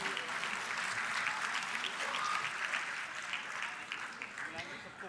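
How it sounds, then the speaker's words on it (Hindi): Spectators in an auditorium at a cultural programme in Ayodhya applaud the dance-drama performers. The clapping is dense and sustained, heard from a moderate distance, with a voice faintly present underneath. "हमारे इन कलाकारों के लिए जोरदार तालियां बजाएं।"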